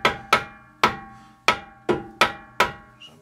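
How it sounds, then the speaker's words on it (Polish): A rubber mallet taps on the rear shock absorber mounting of a Skoda Octavia, six sharp ringing knocks at an uneven steady pace followed by a lighter final tap, close and without talk. "No i młoteczek gumowy,"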